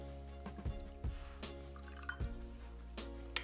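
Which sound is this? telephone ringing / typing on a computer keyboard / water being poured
water being poured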